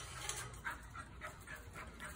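A male pure black Labrador pants in a quick, even rhythm with faint whimpers, heard softly and close, with no talking.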